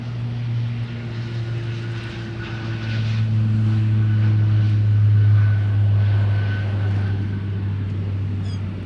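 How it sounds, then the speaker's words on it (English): Beechcraft aircraft departing from the south parallel runway at Minneapolis–St. Paul airport, a steady propeller engine drone heard from a distance that swells a little louder midway, with no talking. "We got a Beechcraft departure on the South Parallel."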